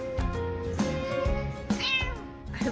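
A house cat meows several times in a row, with clear, close, drawn-out and rising calls and brief pauses between them, heard alone with no talking over it.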